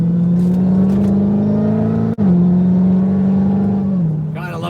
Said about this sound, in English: Gotta love that supercharger. Sounds beautiful.